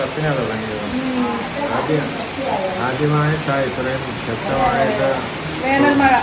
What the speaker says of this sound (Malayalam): എട്ട് അഞ്ച് കറക്റ്റിന് മഴ തുടങ്ങി നല്ല മഴയാട്ടോ